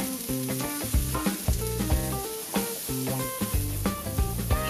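Cabbage stir-fries in shrimp oil with garlic in a deep wok over high heat, a steady sizzling hiss with tossing, partly covered by rhythmic background music.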